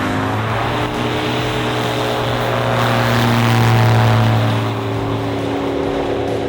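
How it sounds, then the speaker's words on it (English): A small propeller plane rolls and climbs out on takeoff in windy Wyoming, a loud, steady engine drone with a rising and falling propeller tone heard from inside or near the aircraft. "we've got a nice smooth takeoff, extended roll here if you need it"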